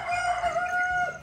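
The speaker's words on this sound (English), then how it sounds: "listening to the cockerels. They've been going since 3 a.m." A cockerel crows in Bali, one loud, close, drawn-out call with a falling end, sounding alone without any speech.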